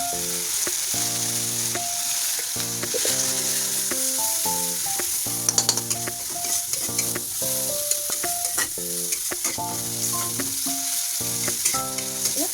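Spices with chili paste and turmeric sizzle in hot mustard oil in a pan while being stirred, a steady close fry with scraping strokes under loud tonal background music and no talk.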